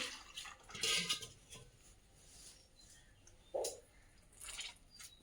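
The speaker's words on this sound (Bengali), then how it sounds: "আমাদের বাড়িতে সবসময় জল পড়ে, তার জন্য জুতো পরে হাঁটতে হয় ঘরের ভিতর দিয়ে। এইখান দিয়ে জল পড়ে।" Water drips from a leak inside a house, producing a few soft, irregular drops and small splashes that sound faint against a quiet room.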